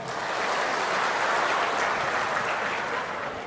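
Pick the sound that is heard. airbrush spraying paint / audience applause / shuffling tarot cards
audience applause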